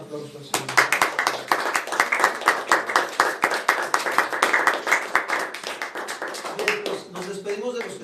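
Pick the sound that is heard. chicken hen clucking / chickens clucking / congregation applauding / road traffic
congregation applauding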